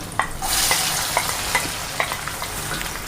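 Onions and green chillies sizzling steadily in a pan, with occasional stirring scrapes over the constant close fry, no talk.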